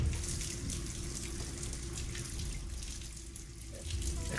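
In the Hitman 3 game's Bangkok luxury hotel, a water tap runs steadily, a continuous close hissing splash with faint voices underneath.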